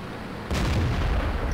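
A mortar tank fires in the video game World of Tanks, letting out a single heavy boom with a rumbling tail that lingers loud and close.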